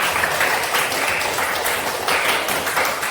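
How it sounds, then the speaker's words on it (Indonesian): A classroom of students claps together at the end of a lesson, a dense, steady patter of many hands lasting a few seconds at even loudness with no talking. "Luar biasa, tepuk tangan untuk kita semua."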